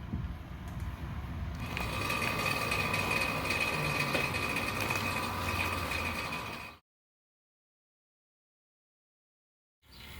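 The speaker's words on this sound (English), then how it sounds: "Now this pump was running for at least 45 minutes." A small vacuum pump on a car air-conditioning system hums steadily for several seconds, then cuts off abruptly into silence before faint sound returns at the very end.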